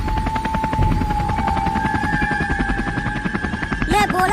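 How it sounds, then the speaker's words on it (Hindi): A loud helicopter in flight gives a continuous, rapid rotor chop close by, with a brief extra clatter at the very end. "मैं बोला था ना कि मुझे हेलीकॉप्टर उड़ाना आता है"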